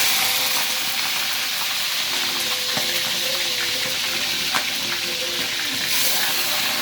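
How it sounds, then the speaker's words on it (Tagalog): Food sizzling in hot oil in a pan, a steady hissing fry with scattered pops and crackles, fairly close and continuous, no talking. "Tapos, salang lang sa mainit na mantika."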